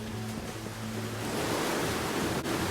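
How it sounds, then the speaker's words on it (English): Masses of imperfect apples pour into a massive holding container at a cider farm, a dense, continuous rushing rumble like surging water that grows slightly heavier midway, with no talk. "So these are the apples that are being poured into this massive holding container."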